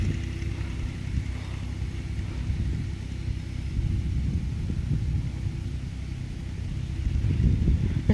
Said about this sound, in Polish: Jak sobie Ursus działa